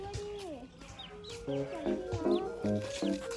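Several chickens cluck and chatter close by, short overlapping calls with a few higher chirps mixed in.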